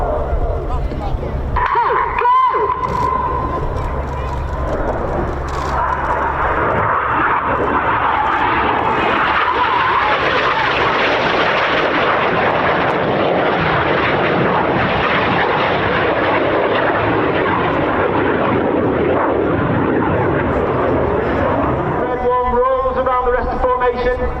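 Red Arrows jets roar overhead at the RAF Cosford Air Show while flying the Crossbow manoeuvre, a loud sustained engine rumble that swells and fades as they pass, with a commentator talking over it throughout.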